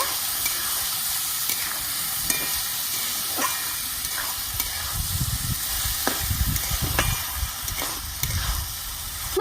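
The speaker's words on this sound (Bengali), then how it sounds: "ভালো করে সব কষিয়ে নেব" Spices and gobindobhog rice stirred and sautéing in a pan for khichuri, a continuous hissing sizzle with occasional clicks of a spoon against the pan, no one speaking.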